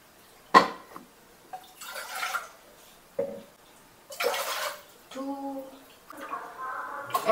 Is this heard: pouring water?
yes